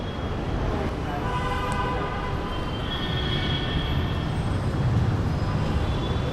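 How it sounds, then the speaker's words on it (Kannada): A train passes near RR Nagar in Bangalore, making a continuous loud rumble of wheels and cars close by, with a faint rising squeal partway through and no break in the noise. "ಇನ್ನೊಂದು ಟ್ರೈನ್ ಬಂತು"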